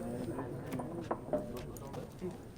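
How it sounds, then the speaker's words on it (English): Steady clip-clop of horse hooves on a hard surface in the video game The Witcher 3, moderately close, with low voices talking underneath. "Did you see the horse in the background?"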